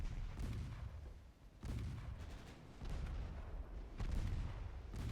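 Naval gunfire and torpedo launches from a ship in the game Ultimate Admiral Dreadnoughts, a steady rumbling low boom bed with several distant muffled thuds rising and falling, faint and continuous with no talk.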